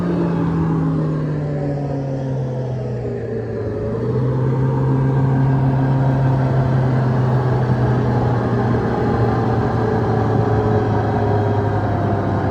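A combine harvester running in a sunflower field after being cleaned out, a loud steady low engine drone with a slight pitch shift partway, continuous and close.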